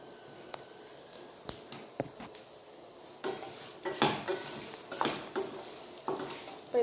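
A ladle scrapes and stirs through a thick tamarind rice mixture in a metal pot on a switched-off stove, with soft irregular clinks and squishy scraping strokes, close and fairly quiet.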